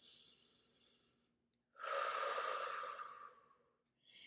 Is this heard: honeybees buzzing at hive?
no